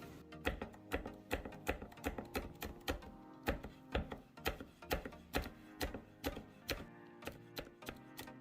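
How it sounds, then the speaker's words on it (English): A knife chops green onion on a cutting board in a quick, steady rhythm of sharp taps, close and fairly quiet, with no talk. "Then I'm gonna cut up the green onion."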